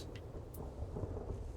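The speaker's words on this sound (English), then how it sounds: "Just when we wanted to go outside and do something, a storm comes." A thunderstorm rolls in within a video game, a steady low rumble of thunder over a wash of rain, moderately quiet and continuous with no talk over it.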